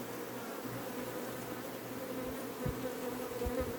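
A honey bee swarm hums in a dense, continuous buzz at moderate level, with a few louder low thumps as bees pass close by; no one speaks.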